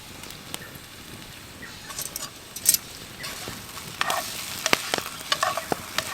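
Red onion frying in a pan for breakfast, a steady close sizzle with scattered sharp crackles and the scrape of stirring, no talking.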